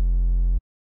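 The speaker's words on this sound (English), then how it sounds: "load a triangle wave on oscillator A" A Serum synth sub bass voiced with a triangle wave on oscillator A plays one steady, loud low note for about half a second, then cuts off abruptly into silence.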